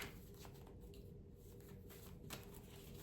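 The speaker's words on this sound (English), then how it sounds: "I'm going to do a quick shuffle on these cards here." Cards being shuffled in a steady riffling flutter, close and fairly quiet, with a couple of sharper snaps along the way.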